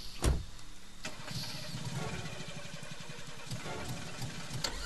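A car engine cranks and starts in the Friday the 13th game, with a sharp thump, then a steady close rumbling idle that keeps running to the end.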